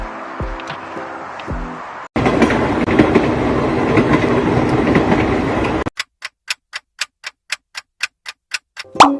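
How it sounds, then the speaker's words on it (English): A train rumbles past loudly for several seconds, followed by a rhythmic series of sharp clickety-clack beats as wheels cross rail joints, with a quieter sound before it starts. "Yes, it's a train. Train. This is a train."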